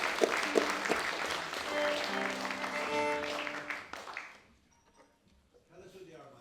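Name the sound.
audience applause at Irish music festival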